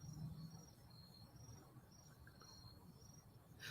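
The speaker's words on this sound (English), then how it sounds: "Or the crickets are always louder than what I hear." Crickets chirp steadily in faint, pulsing bursts behind a quiet indoor live-stream setting, with no one speaking over them.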